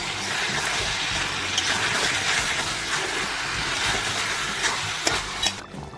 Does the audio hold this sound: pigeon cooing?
no